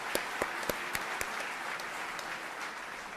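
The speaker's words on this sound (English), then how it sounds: "If we can just give one more round of applause for all of our new employees," Audience applause at a university convocation welcoming new employees, a steady wash of clapping from a crowd with a few sharp nearby claps standing out early, continuing evenly without voices.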